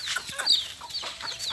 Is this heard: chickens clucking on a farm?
yes